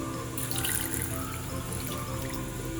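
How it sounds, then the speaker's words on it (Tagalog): Tap water running steadily into a cooking pot for a fish stew with kamias in a home kitchen, a continuous close splashing and hissing stream with no talk. "Tapos lagyan na natin ng tubig."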